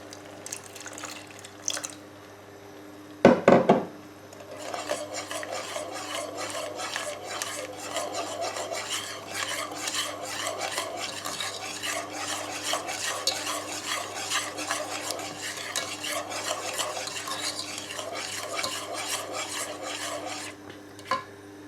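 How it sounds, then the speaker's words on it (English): A milk-based sauce for fish pie is stirred steadily in a pan over medium heat, a close, continuous rhythmic scraping and swishing after a brief clatter near the start. "Just keep stirring it and stirring it over a medium heat."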